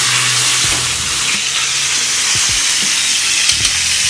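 Tuna steak searing in a hot pan gives a loud, dense sizzle and hiss, with a few soft knocks of the pan and utensils.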